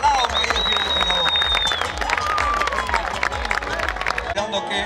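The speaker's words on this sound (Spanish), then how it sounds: "¡Fuerte el aplauso!" Crowd applause in the stands at a rodeo, a steady patter of clapping mixed with distant cheering, under a loud announcer's voice that talks throughout.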